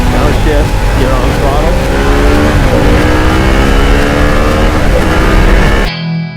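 A motorcycle downshifts and then pulls hard on the throttle, its engine note climbing in loud sweeping revs, heavily mixed with other dense sound throughout and cutting off abruptly near the end.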